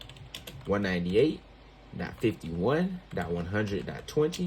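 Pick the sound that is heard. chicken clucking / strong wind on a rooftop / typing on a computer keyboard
typing on a computer keyboard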